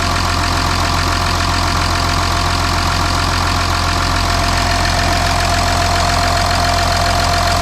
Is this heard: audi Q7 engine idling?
yes